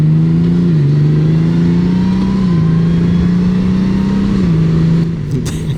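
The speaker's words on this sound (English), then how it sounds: "this is different from any other motorcycle sound that I've heard" A Honda Gold Wing motorcycle engine idles and runs steadily at a low, throbbing pitch with slight rises in revs, loud and close, no talking.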